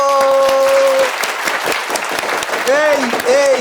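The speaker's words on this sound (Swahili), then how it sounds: "Na leo tunataka tumpigie makofi none other than Vincent Care." An audience claps for a customer shout-out on a show. The dense, loud applause runs throughout, with a voice speaking over it.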